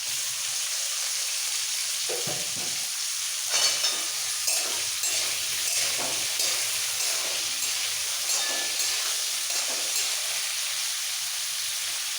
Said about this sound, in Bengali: এবার দিয়ে দেবো তেলের মধ্যে ঘি আর তেলের মধ্যে দিয়ে দেবো ফুলকপিগুলো